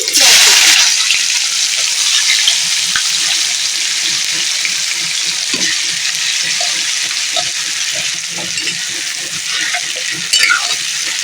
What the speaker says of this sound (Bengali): পেঁয়াজটা আমার ব্রাউন কালার করে ভাজা হয়ে গেছে